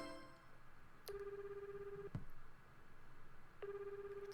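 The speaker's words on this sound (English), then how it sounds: "It's ringing." Phone ringing in the video game Tokimeki Memorial Girl's Side 4: two long, steady electronic ring tones, each about a second, separated by a short click, clean and close with no talk over them.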